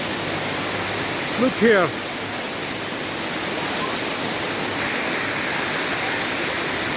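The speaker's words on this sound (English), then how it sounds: "This is one of the greatest waterfall in the world." A mountain waterfall roars as a steady, dense rush of water throughout, with a brief voice speaking over it early on.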